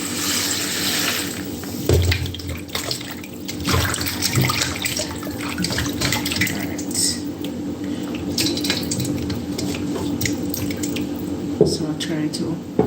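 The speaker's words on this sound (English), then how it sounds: "I'm gonna add some water." Water pours from a tap into vinegar for soaking chicken, a steady splashing and running stream with occasional clinks and drips, close and continuous.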